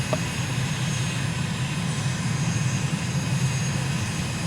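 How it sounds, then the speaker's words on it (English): A small, zippy aircraft drones steadily in flight over the Almaty region of Kazakhstan, its engine a loud, continuous low roar with an even hiss on top and no break. "it's only about a 10-minute flight in a zippy aircraft like this one"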